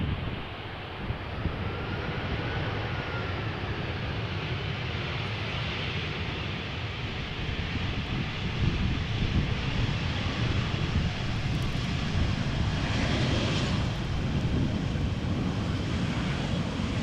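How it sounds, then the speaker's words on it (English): Tarom Airbus A318 on arrival from Bucharest into crosswindy Amsterdam Schiphol, a steady, loud jet roar held throughout with gusty wind buffeting the microphone, no voices. "is Tarom, Airbus A318, arriving from Bucharest"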